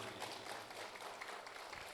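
Applause at an anniversary ceremony in Bali, a dense, steady wash of many hands clapping, faint and distant, continuing throughout without speech.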